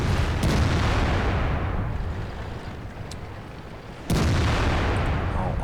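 A Tortoise tank takes hits in the World of Tanks video game, with heavy booming blasts and a rolling rumble, then a sudden sharp impact that renews the roar near the end.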